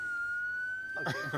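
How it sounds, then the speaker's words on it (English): A steady, high electronic house alarm siren tone holds throughout, with a person's voice breaking in briefly near the end. "Siren go off. That's the alarm of my house."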